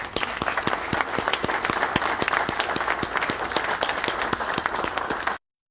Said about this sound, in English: I'd like to acknowledge, if we could, by applause, to you, Joe, and to the seminary for your hosting us